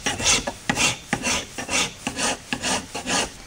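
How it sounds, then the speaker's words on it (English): A hand rasp files a wooden axe handle clamped to a bench, about seven rhythmic rasping strokes close by with brief pauses between them, no voices. "you can get more aggressive with it with these 4-in-hand or whatever choice rasp you want"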